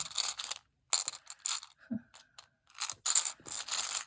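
Small glass buttons clink and rattle inside a little shell, making bursts of bright clicks and tumbling taps with short quiet gaps between handlings, close up.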